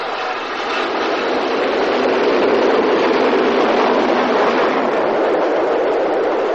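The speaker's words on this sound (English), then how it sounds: "a southbound express roared through, behind one of Carlisle Canal's A3 Pacifics" A southbound express hauled by an LNER A3 Pacific steam locomotive roars past as a loud, continuous, muffled rush of noise that swells slightly midway, with no speech.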